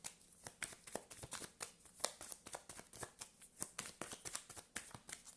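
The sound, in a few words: shuffling tarot cards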